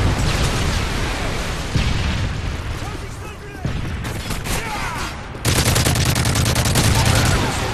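Dense, continuous gunfire and explosive booms from a Call of Duty MW3 Team Deathmatch match, loud and sustained with bursts and a heavier blast near the end, and a game announcer's voice over the battle.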